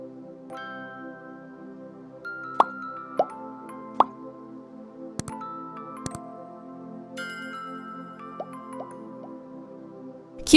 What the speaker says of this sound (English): We press well until we extract all the juice